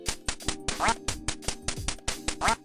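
Ducks in the video game Duck Hunt quack repeatedly amid a flood of ducks after the level rolls over from 99 to 0, with quick rhythmic bursts of electronic game effects between the quacks.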